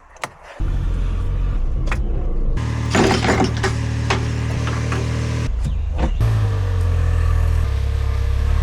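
A mini truck engine cranks and catches, then idles with a steady low rumble beside a 1996 Sea-Doo XP800 project, with clanks and rattles over the running engine and a brief shift in pitch near the end.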